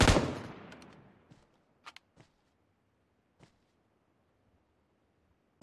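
Gunfire in the PUBG Mobile battle royale game: one loud close shot with a long decaying tail, followed by a few faint, sparse distant pops and a sharp burst at the very end.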